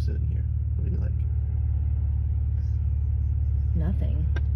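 Cabin ride noise inside a moving Maserati Ghibli: a dense, constant low road-and-engine rumble with people talking over it intermittently.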